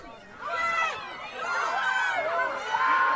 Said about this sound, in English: the crowd going insane, hoping their team could get a crack on net